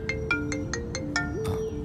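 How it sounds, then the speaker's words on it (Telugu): A mobile phone ringtone plays a short, bright melodic phrase of repeated chiming notes over a faint steady hum, with no voices. "వదిన ఫోన్ చేస్తుంది."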